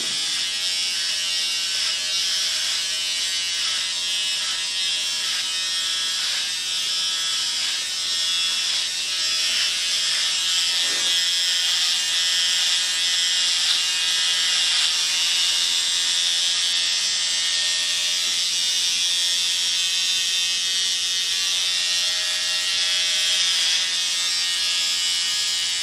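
Electric clippers buzz steadily and loudly while shaving a head, a continuous high whine that shifts slightly as the blades move across the hair.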